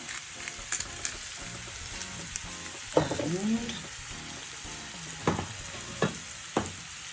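Onions caramelise in a pan for a cheese and onion tart, giving a steady, even sizzle throughout, with a few soft scrapes and taps from stirring, close and moderate in level.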